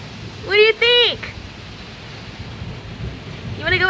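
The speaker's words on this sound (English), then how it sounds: "It's raining and thundering." Rain falling during a thunderstorm outdoors, a steady hiss with low rumbling underneath, while a bird or animal gives a few bright chirping calls near the start and again at the end.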